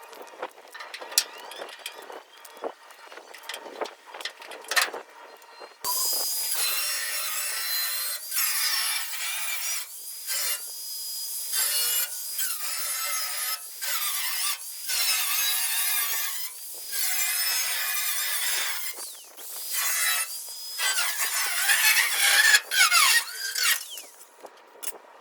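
Fenders on a Chevrolet C10 truck being cut to fit 37 inch tires, with a steady harsh cutting and grinding noise close by, running mostly continuously with brief pauses after a quieter start.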